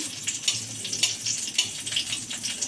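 Cardamom and cinnamon frying in hot oil in a pan, a steady close sizzle with crackling bursts and faint stirring, no voices.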